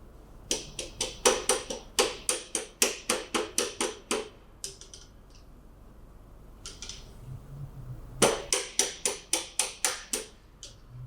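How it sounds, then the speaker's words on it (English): A hammer taps a part onto a Honda CT70 Trail mini bike foot control in quick, evenly spaced metallic strikes, first in a long burst, then a pause with a few scattered knocks, then another rapid run of close, sharp blows. "if you hit it with a hammer and it goes on, then it fits"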